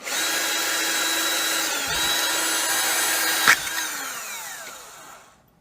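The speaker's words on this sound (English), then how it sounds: "I'm gonna drill it in the center." A power drill bores into the center of a piece at close range, a loud steady whine that shifts pitch briefly midway, then winds down and stops.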